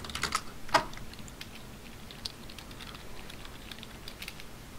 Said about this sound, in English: I imagine we're getting some typing coming from him soon